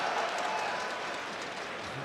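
A crowd at an esports quarter-final match applauds and cheers, a broad steady wash of clapping that holds at even loudness and then tapers slightly.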